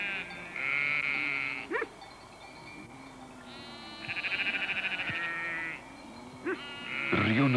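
A flock of sheep bleating as a shepherd gathers them in the Portuguese countryside at day's end, several drawn-out, wavering calls from different animals at varying distances, some close and loud, with quieter rural background between them.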